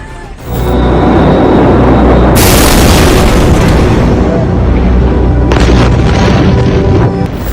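A massive, close explosion in Beirut, Lebanon roars and rumbles continuously, a deep sustained blast with crackling bursts layered on top.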